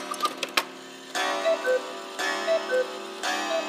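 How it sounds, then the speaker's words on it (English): A rare Black Forest cuckoo and quail clock, model 671 by Johann Baptist Beha, with original gongs, bellows and pipes, ticks steadily and close, with a few sharper clicks at first and then an even, resonant tick-tock alone. "it's just a magnificent Black Forest cuckoo and quail made by Johann Baptist Beha"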